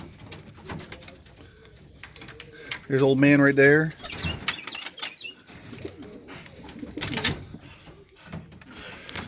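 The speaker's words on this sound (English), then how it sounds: "And here's my pigeons." Homing and roller pigeons coo in a backyard loft, soft repeated coos heard close under an outdoor background, with someone talking briefly over them.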